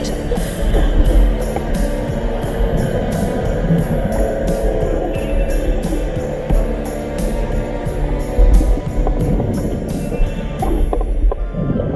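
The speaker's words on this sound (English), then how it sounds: "Here is the sound of a boat going overhead." Underwater recording in an active harbor area at Räfsnäs of a boat passing above: a throbbing engine hum with rhythmic propeller pulses, rising and fading over a dozen seconds.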